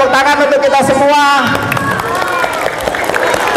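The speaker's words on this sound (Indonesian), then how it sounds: "Tepuk tangan untuk kita semua" Audience applause at a Maulid Nabi religious gathering, steady clapping and crowd noise filling the room alongside a loud speaking voice over the first part.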